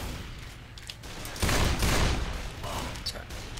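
Bursts of gunfire from the zombie shooter Left 4 Dead 2 crackle in the mid-distance, a dense volley swelling then fading, with rapid shots layered over background game noise.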